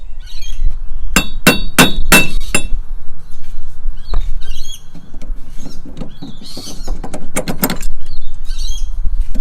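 Breaker bar cracking loose a front wheel bearing nut on a BF Ford Falcon, with sharp metallic clanks and ratcheting clicks, several quick knocks in a cluster and then scattered clinks, all loud and close.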